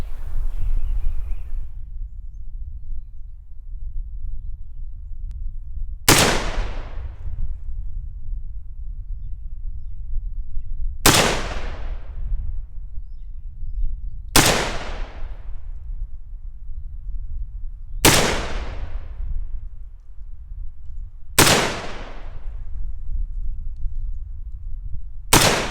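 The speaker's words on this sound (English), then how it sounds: "let's see how it does shooting from behind cover from a distance of 40 yards" Five single rifle shots from a PTR A3S, an HK91 clone, fired at 40 yards from behind cover, each a sharp loud crack spaced a few seconds apart over quiet outdoor background.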